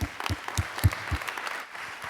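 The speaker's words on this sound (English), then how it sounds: "Let's give our speakers of the session another round of applause." A conference audience at a bioinformatics session gives another round of applause for the speakers, soft and somewhat distant, with scattered individual claps standing out early before the sound thins toward the end.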